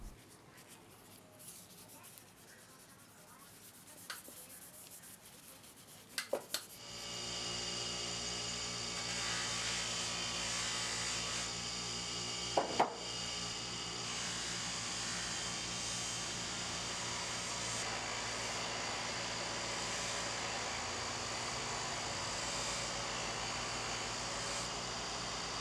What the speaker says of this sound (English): then I will polish it with a buffing wheel.